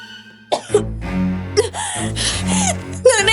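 A person struggles up from the grass, coughing and gasping for breath. Several hoarse, strained coughs and sharp in-breaths follow close together, near and loud.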